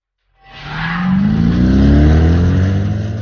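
A Mercedes-AMG M157 5.5-litre V8 biturbo engine on a test bench roars up from silence, its loud, close revving tone climbing steadily and holding a strong, rising pitch for about three seconds.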